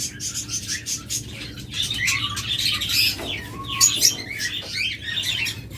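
Lovebirds and cockatiels in a bird shop fill the air with dense, overlapping high chirps and tweets, close and lively, with a few brief whistled calls and the odd flutter of wings.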